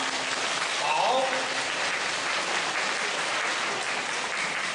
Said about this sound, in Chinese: 大家鼓掌鼓励他